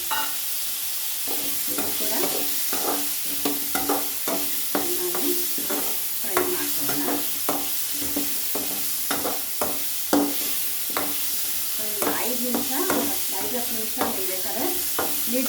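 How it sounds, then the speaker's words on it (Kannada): Potatoes and brinjal fry in oil in a pan while a spatula stirs them. Close, steady sizzling runs throughout, broken by frequent scraping and clacking strokes against the pan. No one speaks. "ಆಲೂಗಡ್ಡೆ ಫ್ರೈ ಆಗಿದೆ. ಇದಕ್ಕೆ ನಾನು ಬದನೆಕಾಯಿ ಕೂಡ ಹಾಕ್ಕೊಳ್ತಾ ಇದ್ದೀನಿ."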